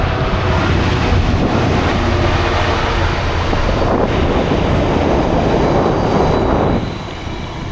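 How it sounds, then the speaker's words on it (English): A long train rumbles past continuously and loudly near a cycling trail, with steady wheel roar and some wind buffeting, easing slightly at the end. "I guess that's quite a long train. It's still going."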